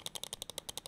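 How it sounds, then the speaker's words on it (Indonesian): MYNK Gozo E mouse buttons with Huano Blue Dot switches clicking about a dozen times in quick, even succession, each click crisp, sharp and close, with nothing else heard. "dia udah pakai Huano Blue Dot Switch yang suaranya kayak gini"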